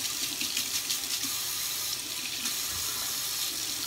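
A kitchen tap runs warm water for pretzel dough, a steady hissing stream close by with no talk.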